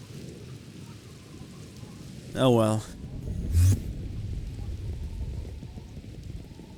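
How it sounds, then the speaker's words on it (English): Rain and thunder from the Minecraft video game (Tekkit 2 modpack), a steady hiss of rain with a low thunder rumble, heard under a man's speech. "it's a bad day out for all, isn't it, when the rain comes"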